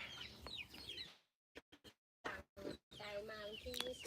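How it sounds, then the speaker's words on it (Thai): Laying hens cluck on a small farm, a few close, overlapping calls standing out against the flock's background noise. "ไก่ไข่ นี่คือไก่ของเรานะครับ"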